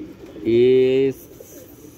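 Pigeon cooing at a rooftop loft where pigeons are kept, one close, loud, tonal coo lasting about half a second amid faint background noise, with a brief word of speech nearby.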